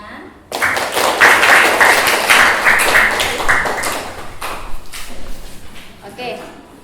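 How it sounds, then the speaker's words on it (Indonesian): A school class claps hands together after a group discussion, sharp rhythmic bursts of clapping in a patterned beat for several seconds, then scattered claps fading out, with voices mixed in. "Tepuk tangan."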